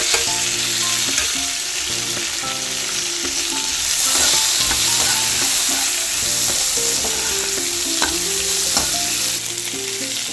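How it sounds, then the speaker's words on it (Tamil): Urad dal and chana dal frying in hot oil give a loud, dense, continuous sizzle heard close up. Steady stirring runs through it and a faint melodic background underlies it, with no talk. "உளுத்தம்பருப்பு, கடலைப்பருப்பு சேர்த்துட்டேன்."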